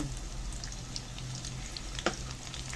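Onion frying in a hot pan for a Kapampangan home-cooked dish gives a steady, close sizzle throughout, with one brief utensil clink partway through and no voices.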